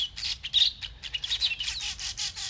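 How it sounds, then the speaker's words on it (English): Small birds chirping outdoors on a cold early morning, a string of quick, high tweets and short trills repeating in an uneven rhythm at moderate distance over a faint low background hum. "lovely being outside with the birds again"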